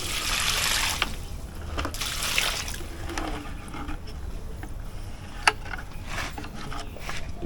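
Water trickles and splashes onto plants in a backyard garden in Kingstown, with a steady soft flow broken by scattered nearby drips and splatters, plus one sharper knock late on.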